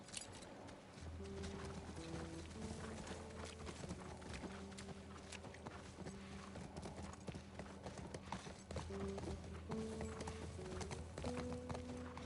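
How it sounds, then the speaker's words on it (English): Horse hooves clip-clop in a steady walking rhythm across a soundscape in The Last of Us Part I, with sustained musical tones playing underneath throughout. "Absolutely love the fact that there's horses in the game."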